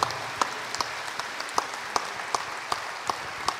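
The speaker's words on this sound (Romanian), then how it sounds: "Aplaudați-L!" An audience in a church gives steady, moderately loud applause with sharp individual claps standing out in a regular rhythm over a few seconds.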